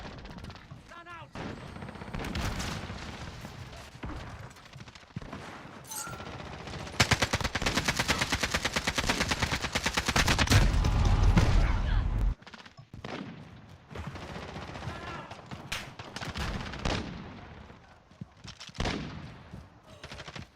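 AK-47 automatic gunfire in a first-person shooter, loud sustained bursts and rapid rattling volleys, a long continuous burst in the middle with shorter bursts around it, mixed with game sound effects and brief shouted callouts.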